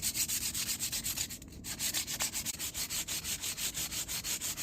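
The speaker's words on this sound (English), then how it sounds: "we start with 80 grit sandpaper" A shaped wooden stick is rubbed with 80 grit sandpaper in fast, even back-and-forth strokes, about four per second, steady and close with a brief pause midway and no voices.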